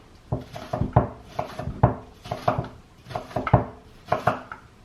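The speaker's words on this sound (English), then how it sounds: "I like to chop my vegetables up into really, really small pieces" Knife chopping vegetables into small pieces on a cutting board for a seafood pasta salad, steady rhythmic bursts of sharp close taps in quick clusters, with no talking.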